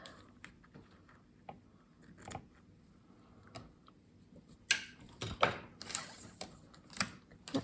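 Scissors snip ribbon for a handmade card in a quiet room, a scatter of soft isolated clicks and then a denser run of sharper, louder snips near the end, close and alone.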